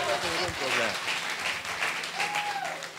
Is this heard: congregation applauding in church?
yes